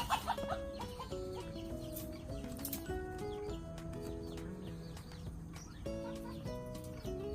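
Korean native hens clucking and cackling in a busy, layered chorus while brooding eggs, with scattered tonal calls and shuffling noises throughout, fairly close.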